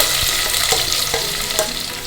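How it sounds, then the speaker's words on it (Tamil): Long-sliced onions sauté in a hot pan with bay leaf, pepper and fennel, a dense steady sizzle with a few quick spatula scrapes, near and loud. "வெங்காயம் கொஞ்சம் வதங்கட்டும்."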